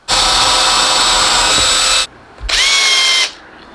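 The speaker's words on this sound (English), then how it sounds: "Now we just drill the lead hole right there." A power drill whines loudly up close drilling the lead hole in a handmade cockroach fishing lure, in two bursts, the first about two seconds long, then a brief pause and a shorter second run.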